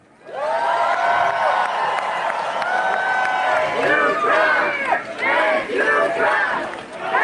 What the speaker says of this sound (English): Endless applause for President